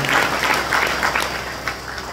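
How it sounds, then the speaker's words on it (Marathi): A seated audience at a Warkari devotional kirtan, held for a death anniversary, claps loudly and steadily for a couple of seconds in dense, even applause. "जोरात टाळी वाजवून मनापासून अभिवादन"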